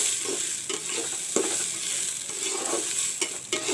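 Rice frying in a pan while being stirred until it browns, with a steady sizzle and a series of scraping spoon strokes at irregular intervals, close and fairly loud.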